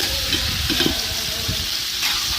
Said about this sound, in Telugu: అవన్నీ వేసుకొని బాగా కలబెట్టాలి